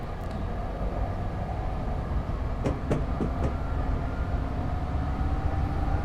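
Steady low rumble of a train's engine and wheels building gradually as it accelerates toward 79 mph in Train Simulator 2015, on the Los Angeles to Irvine route, with a few brief clicks partway through, continuous and close.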